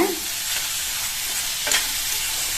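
Green, red and yellow capsicum sautéing in a pan over a high flame, a steady close hiss of sizzling with occasional stirring scrapes throughout.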